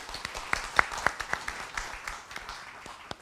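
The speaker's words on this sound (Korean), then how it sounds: "박수로 환영해 주시기 바랍니다" Light audience applause welcoming a speaker at a broadcasting forum, a modest spatter of claps with a few sharp, distinct hand strikes standing out, fairly quiet and thinning toward the end.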